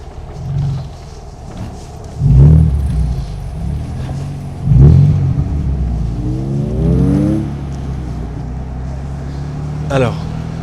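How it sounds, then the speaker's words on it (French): Morgan Roadster with a 3.7-litre V6 pulling away, its engine rising in two strong revving surges with a gear-change sweep between, then settling to a steady drone; someone talks over it. "c'est d'aller la faire rouler cette Morgan"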